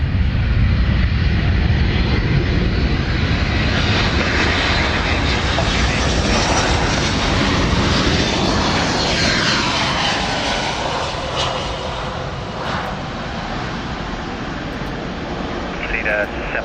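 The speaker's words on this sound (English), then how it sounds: "It's a large aircraft." A large aircraft taxis at an airport with its engines running, a loud, steady, broad roar and whine that holds throughout and eases slightly toward the end; radio chatter is heard under it.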